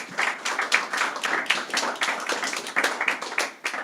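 A church congregation claps steadily for several seconds, a dense patter of many hands heard fairly close in the sanctuary, with no talk over it.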